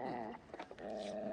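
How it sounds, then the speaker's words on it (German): A dog growls close by in a tense standoff, a low rumbling snarl that breaks off briefly in the middle and then resumes, with no talking. "Ruf bitte deinen Hund zurück."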